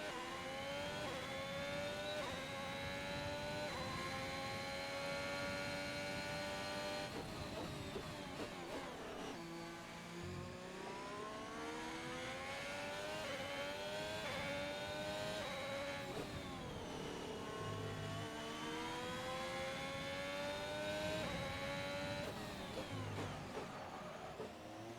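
Haas race car in a racing video game lapping the Bahrain circuit, its engine droning loudly and steadily with rising and falling pitch through gear changes and corners, continuous and alone without talk.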